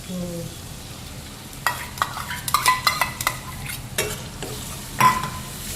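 Ginger, garlic and chili paste frying in a pan as tomato puree goes in for a potato curry, with a steady low sizzle and scattered scraping stirs and clinks of a spoon against the pot, close and moderately loud.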